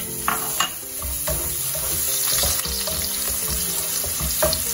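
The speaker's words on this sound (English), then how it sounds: "To this, I'm going to add 1 tablespoon of garlic." Garlic sizzles in hot oil in a pan while mixed fried rice is cooked. The frying crackles loudly and continuously, with occasional stirring scrapes and knocks against the pan.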